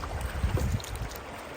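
River waves slap against a kayak on a cold day of fishing in North Georgia, a few soft low thumps in the first second over steady wind rumble.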